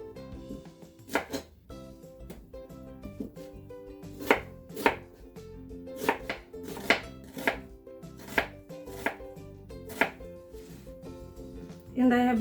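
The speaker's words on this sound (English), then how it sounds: "I'm going to slice an onion." A knife slicing an onion on a cutting board, with about a dozen crisp, separate chops at an uneven pace, close by over a quiet background.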